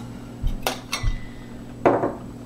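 Soap colorant pigment being stirred into oil in a small container for cold process soap, giving a few light clinks and scrapes of a utensil against the vessel, close and sparse.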